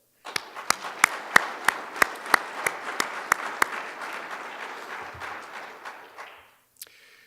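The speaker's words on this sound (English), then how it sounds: "So please give him a round of applause." Audience applause at a fire department awards ceremony: a crowd claps steadily with several loud, sharp individual claps standing out near the front. The clapping swells, then fades away after several seconds.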